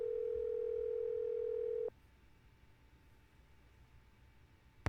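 A telephone dial tone in a Nancy Drew mystery game, a steady clean hum holding for about two seconds before cutting off abruptly to quiet room noise, ending in a brief click.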